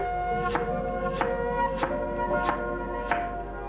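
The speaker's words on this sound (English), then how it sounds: "slice the lower half of lemongrass stalks into thin slices like this" Knife slicing the lower halves of lemongrass stalks into thin rounds on a board, about six crisp cuts at a steady, unhurried pace, close by over a constant background hum, with no talking.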